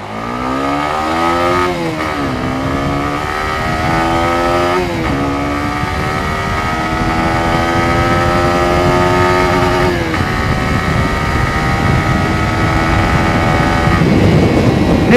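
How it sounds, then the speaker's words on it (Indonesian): A Honda CBR 150R motorcycle engine revs while being ridden, its steady, loud drone climbing and dropping in pitch through several throttle pulls and gear changes, with no voices. "Ini lumayan motornya nih, responsif banget mesinnya"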